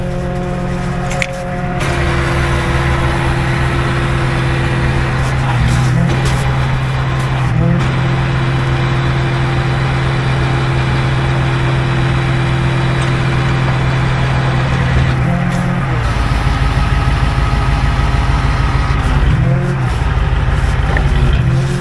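Vehicle winch winding in wire rope during a mountain recovery of stranded people: a loud, steady mechanical motor drone with a strong hum, its pitch shifting briefly every few seconds as the load changes.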